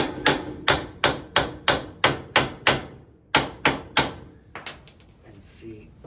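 Brake caliper on a 1961 Triumph TR3A being tapped with a tool, about a dozen sharp metallic knocks in a steady rhythm, close and loud, followed by a few fainter scattered clanks.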